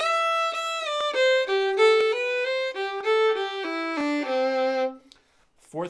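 A fiddle plays the ending phrase of Billy in the Lowground, a run of quick bowed notes stepping downward to a held low note, close and clear, then a brief pause.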